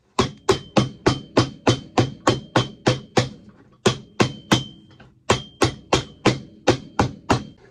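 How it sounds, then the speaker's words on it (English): Steady hammer strikes in quick regular runs, about a dozen blows each, separated by brief pauses; sharp and close, with no voices, while rebuilding an Ariat boot. "And then we're going to take the hammer"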